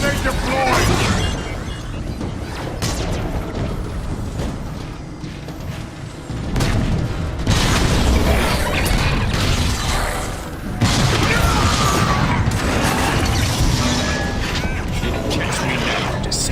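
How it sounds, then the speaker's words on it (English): Decepticon grenade going off in Transformers: War for Cybertron amid a firefight, repeated heavy booms and metallic crashes, loud and dense throughout, with voices over the battle. "Decepticon grenade deployed!"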